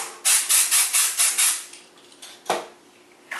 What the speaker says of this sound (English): spray it real quick